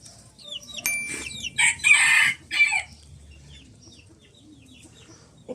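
Backyard coop chickens and a rooster cluck and call in a few close bursts, including a crow, over quiet outdoor ambience, then fall mostly silent.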